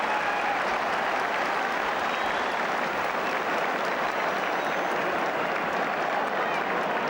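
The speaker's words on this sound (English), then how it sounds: "And listen to the crowd." A large stadium crowd roars, cheers and applauds at half-time of the 1980 All-Ireland Senior Hurling Final between Galway and Limerick, a loud, dense and unbroken wall of noise filling the whole stretch.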